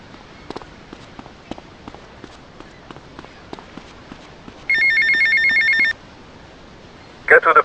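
Payphone ringing in GTA Vice City, a loud electronic telephone bell trilling for about a second, then starting again near the end, with faint footsteps and game sounds underneath.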